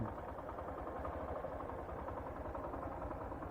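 Motorcycle engine running on a flooded, sinking section of the national highway near Cabatuan, Iloilo, a quiet, low throbbing drone with a steady rhythmic pulse and no voices.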